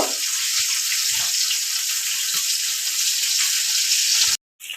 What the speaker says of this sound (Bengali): মাছগুলো একটু ভালো করে লাল লাল করে ভেজে নেব